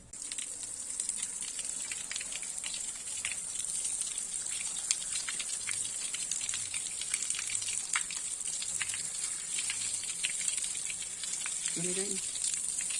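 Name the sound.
shower water running while washing ginger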